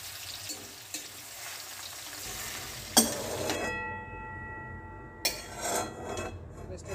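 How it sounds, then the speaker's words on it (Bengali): Mutton cutlet frying in oil at a street food grill, a steady sizzle with clinks of metal utensils and pans, a couple of sharp clatters, and faint background voices. "কাটলেট যেটা এটা এমনি ফ্রাই হয়"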